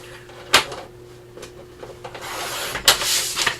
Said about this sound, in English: So let me trim that up.